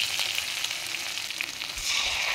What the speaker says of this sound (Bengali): তারপর পেঁয়াজ দিলাম, দিয়ে একটু লাল লাল করে ভেজে নেব।